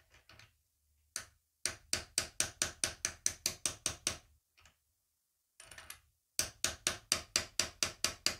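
Steady series of sharp metallic taps as a socket drives an oil seal into a Stihl MS 650 chainsaw crankcase during a rebuild, close and evenly paced, in several runs separated by short pauses.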